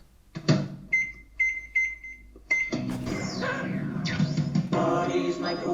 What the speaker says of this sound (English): Now let me just pop this burrito in the microwave.